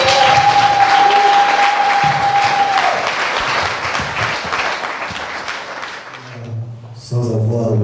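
A church association gathering bursts into dense, loud applause from the congregation, sustained for several seconds and then tapering before voices and chatter return at the end.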